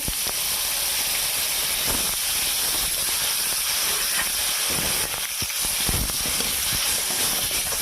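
Mustard oil sizzling in a pan after panch phoron and raw tamarind are added, a loud, steady frying hiss that runs unbroken throughout with no talking.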